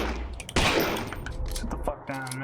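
Gunfire in the horror video game Lost In Vivo: one sharp, loud shot bursts out near the start, with smaller game sounds and clatter following, and a person talks over it.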